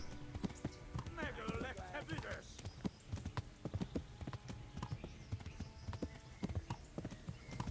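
Horse galloping in Kingdom Come Deliverance, a fast, steady clip-clop of hooves under game music and effects, with a brief whinny early on and someone talking throughout.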